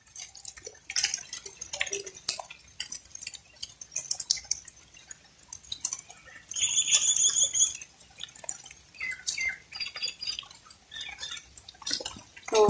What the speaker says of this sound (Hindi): तो बारिश जो है वो तेज़ हो रही है।